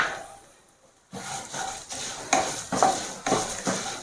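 Urad dal, coriander seeds and cumin are stirred and fried in a pan for spicy prawn powder, with a spoon scraping against the pan in regular strokes, close and clear over a faint sizzle.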